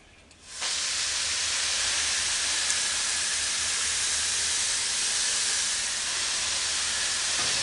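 A garden hose mist nozzle sprays water onto seed soil, starting with a quick onset and then holding a steady, close hiss of fine spray with no talking.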